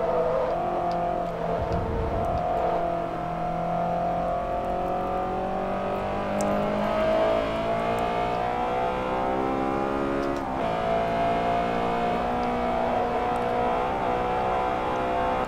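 Race cars from Forza Motorsport 3, a Honda S2000, Porsche Boxster and Mazda MX-5, in a lightweight sports showdown: steady engine drone with rising and falling revs, gear shifts and cars close together, continuous and loud throughout.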